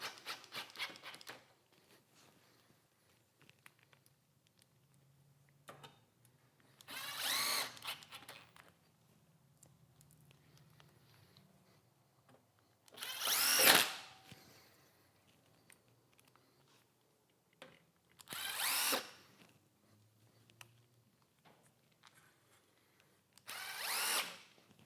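A power drill runs in the handlebar clamp bolts on a 2014-2024 Road King motorcycle in four separate short whirring bursts, with quiet gaps and faint handling noises between them.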